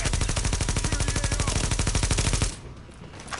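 Rapid automatic gunfire in the video game The Division, a fast even burst of shots lasting about two and a half seconds, loud and close, then cutting off into quieter background.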